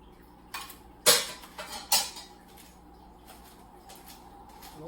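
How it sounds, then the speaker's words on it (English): Dry ingredients for cornbread stuffing are dumped into a bowl, with a few sharp clinks and taps of a utensil against the dish clustered in the first two seconds, followed by quiet. "Dump that in a bowl"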